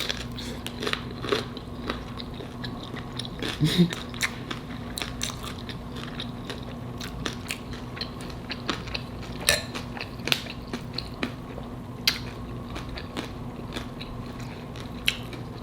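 Crunchy shrimp tacos being bitten and chewed up close, a steady run of crisp crunches and mouth sounds with an occasional clink of cutlery, and no speech.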